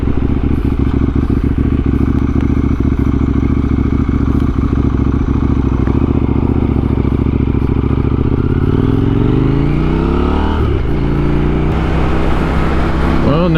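A KTM Duke 890R motorcycle rides along curvy back roads, its engine droning loud and steady throughout, with gear changes and rising revs near the end.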